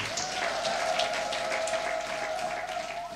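A church congregation at an Easter service applauds for Jesus, steady continuous clapping filling the room, with a sustained tonal hum running beneath.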